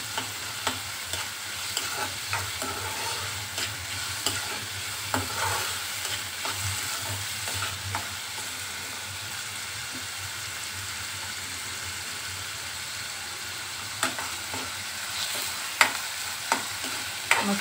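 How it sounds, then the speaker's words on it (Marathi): Onion and tomato sautéing in a pan for a chicken liver fry, a steady close sizzle with intermittent scraping stirs and clicks of a spatula throughout, no voices. "तर मी कांदा असा परतून घेतलेला आहे"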